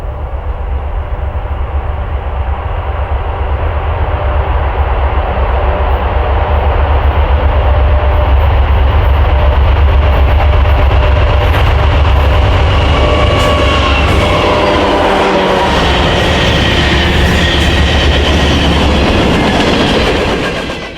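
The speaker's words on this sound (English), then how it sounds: "Our first train was 35E, a westbound manifest with some unique power that included an SD60 and 3 freshly painted Union Pacific Aces" A westbound freight manifest led by an SD60 and three freshly painted Union Pacific locomotives works hard up a steep grade, its diesel rumble and clattering wheels loud and steady throughout, with no voices.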